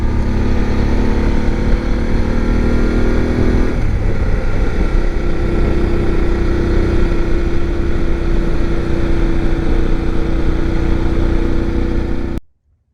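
A BMW F750 GS motorcycle rides along a mountain road, its engine a steady, loud droning hum mixed with wind rush that shifts pitch partway through, then cuts off abruptly.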